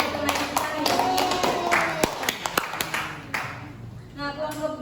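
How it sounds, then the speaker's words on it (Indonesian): A classroom claps for a classmate, a short burst of scattered hand claps and taps that thins out after about three seconds, with voices in the room. "Beri aplaus untuk teman kita ya."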